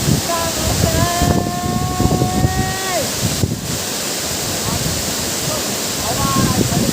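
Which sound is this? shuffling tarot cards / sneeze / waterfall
waterfall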